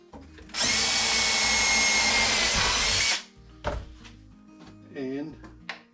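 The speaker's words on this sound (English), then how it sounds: "Now I should be able to drill this hole down here." A power drill whines loudly and steadily for about three seconds, then stops, followed by a few knocks and handling clunks nearby.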